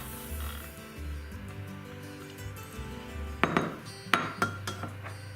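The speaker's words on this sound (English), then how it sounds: "I just whisk it all together so it mixes it really, really well" Chia seeds and vanilla whisked together in a bowl: a soft low hum of mixing, then several sharp clinks of the whisk against the bowl near the end, close by and with no talking.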